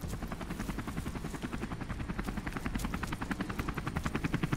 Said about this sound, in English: Alrighty, helicopter.